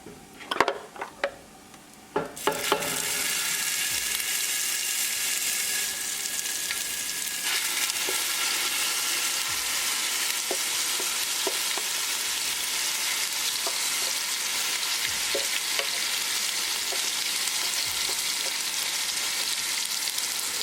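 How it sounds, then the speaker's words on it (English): Spice paste for a potato and sweet pea curry hits a hot pan with a sudden loud, steady sizzle, as a spoon scrapes and taps against the metal while it is stirred, after a few quiet clinks at the start. "We're going to scoop out all the paste and mix it well and we're going to cook it."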